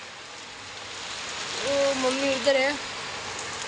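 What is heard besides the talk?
rain starting to fall outdoors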